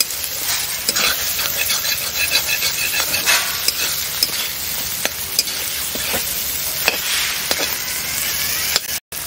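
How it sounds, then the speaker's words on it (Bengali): Vegetables sizzle and hiss steadily in hot oil in a village kitchen, with scraping stirring strokes and occasional crackles over a continuous frying wash, ending in a brief cut. "হচ্ছে ভাজা ভাজা ওই তেলে।"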